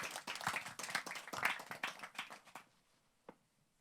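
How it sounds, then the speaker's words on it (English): Audience applause at a talk on city design, a modest room of people clapping for about two and a half seconds, then dying away to near silence with a single late clap. "And a warm applause again,"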